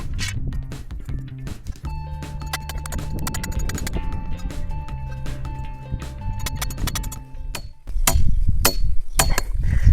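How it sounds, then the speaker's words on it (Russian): Fence posts driven into the ground by hammering in a remote village: a string of sharp metallic knocks with a ringing tone, followed by a heavier, louder stretch of banging at the end. "Пока столбы я не бетонирую, просто забиваю"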